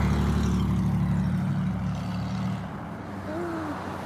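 Several cars idle and pass along a residential street, a steady low engine rumble that fades slightly midway, with a faint rising tone near the end.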